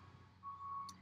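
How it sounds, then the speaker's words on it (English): A truck reverses somewhere outside a backyard, its backup alarm giving a steady high electronic tone over low engine rumble, fairly faint and distant against outdoor ambience. "There's a truck backing up."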